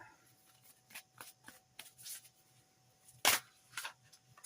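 Oracle cards being shuffled by hand: a series of quiet, soft riffles and taps, with one sharper snap of cards near the end. Close and faint, with no talking.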